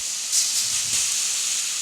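Steaks sizzling on a hot griddle pan for a Vietnamese beef salad, a steady bright hiss that swells briefly and then holds, close and alone with no talking.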